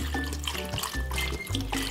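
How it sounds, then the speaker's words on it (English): Bone broth pours steadily into a pot while soup is being made, giving a continuous close liquid splashing and gurgling that runs throughout the short clip without speech. "I am going to add the bone broth"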